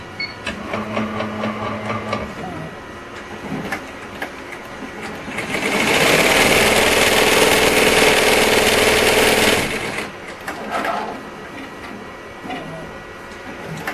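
A sewing machine runs at a steady fast whir for several seconds while stitching fabric, loud and close, with quieter mechanical clicks and handling noise before and after the run.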